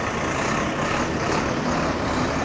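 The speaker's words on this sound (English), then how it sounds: "It's a CNG bus." A CNG bus rumbles past on a city street in Abuja, producing a steady, loud engine drone mixed with traffic noise and no speech.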